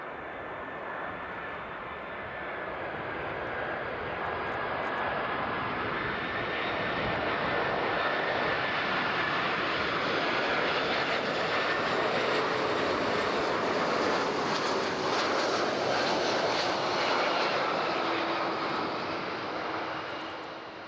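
Airliner landing on runway 14 at Zurich airport, a loud sustained engine roar that swells and holds steady for about twenty seconds, broadband and close, with a whining tone drifting on top before easing slightly at the end.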